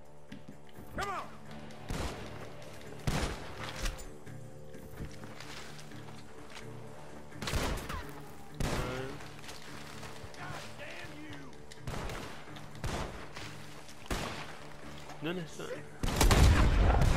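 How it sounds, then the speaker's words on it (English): Sharp gunshots crack out in the Red Dead Redemption 2 video game from the direction of a barn, spaced irregularly and sometimes in quick pairs, with a player's voice talking briefly and a heavier burst at the end. "Gunshots are coming from that barn"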